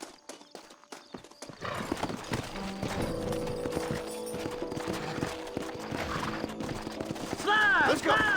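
A horse gallops with rapid, loud clip-clopping hooves in the Red Dead Redemption video game, layered over busy game sound, with a whinnying neigh near the end.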